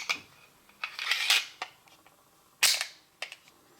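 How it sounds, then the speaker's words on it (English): An 8-round Tripp CobraMag magazine is worked into the well of a 1911 pistol with a series of sharp metallic clicks and scrapes, ending in a firm seating snap, close up and without talk. "So that's the 8-round Cobra mag in there."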